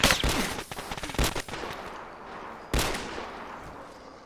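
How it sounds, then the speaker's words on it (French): Gunfire in the military video game Arma 3, a cluster of sharp shots in the first second and a half followed by one more loud report, then fading echoes. "Tire dessus à l'arme à feu, attention."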